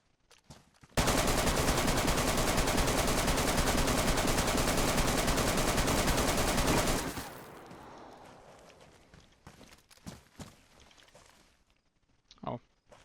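Sustained automatic gunfire in the video game The Day Before: one loud, continuous burst of about six seconds, then a lingering tail, scattered footsteps and small clatters, with someone speaking.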